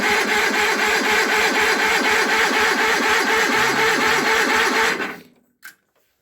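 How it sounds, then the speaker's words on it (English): An Onan or Perkins gas or diesel engine turns over cold in a fast, steady rhythmic chug for about five seconds, then cuts out, followed by a single short clunk. "Gonna crank these over to get the oil flowing and then we'll choke them and see them fire up."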